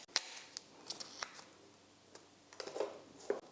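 Painter's tape being torn off the roll and pressed on in layers, producing sparse sharp rips and crackles with quiet pauses between them, close by and fairly faint.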